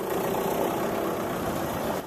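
An old tractor engine runs steadily, a continuous low rumbling drone without pauses, heard on its own at moderate distance.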